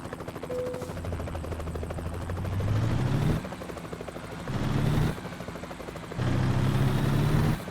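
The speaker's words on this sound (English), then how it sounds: "Why can I hear a helicopter?" Helicopter flying in the American Truck Simulator game, a continuous rotor thump mixed with a truck engine whose pitch rises and drops with gear shifts, fairly loud and close.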